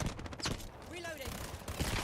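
Gunfire in the video game Highguard, with bursts of shots crackling under game voices and effects.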